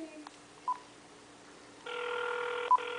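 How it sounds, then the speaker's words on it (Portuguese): A telephone sounding: a couple of short electronic beeps over near silence, then a steady, bright, warbling electronic ring tone that continues to the end, broken by one more brief beep. "Atende o telefone"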